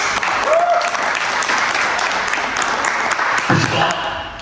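An audience claps steadily and loudly for the new performers at a Hindi comedy play, with a brief voice partway through.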